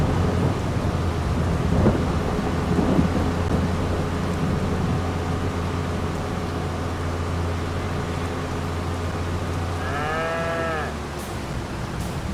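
Steady rain hisses with low rolling thunder rumbling underneath in Farming Simulator 22, and a brief cow moo sounds near the end.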